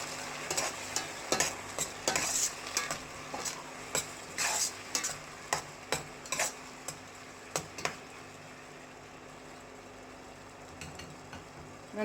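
Onion paste sautéing in a pan for a vanjaram fish kulambu, a quiet sizzle under a run of regular spatula scrapes and taps on the pan that fade out toward the end, no talk.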